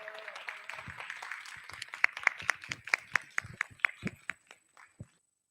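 Applause from an audience at a student policy forum: scattered hand claps that build into sharper individual slaps, then thin out to a few last claps before stopping, fairly faint and without voices.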